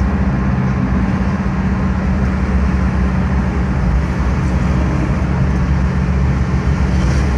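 A 1979 Volkswagen Variant II with a rear-mounted engine cruising on the road, giving a loud, steady low rumble of engine and road noise that continues without a break.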